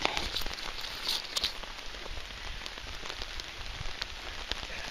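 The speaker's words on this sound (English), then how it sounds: "It's raining. I'm under the tarp." Rain patters steadily on a taut sheet overhead, a close, dense hiss broken by sharper individual drops.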